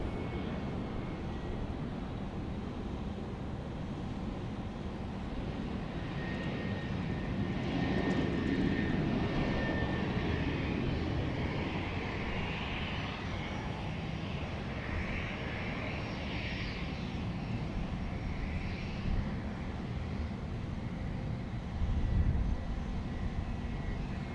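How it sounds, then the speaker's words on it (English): A Bombardier Challenger 3500 business jet landing at Dallas Love Field gives a distant, steady engine roar that swells gently and then settles over about twenty-four seconds against constant outdoor background noise, with no talking. "This is FlexJet Flight 502 arriving from Lubbock, Texas. A Bombardier Challenger 3500."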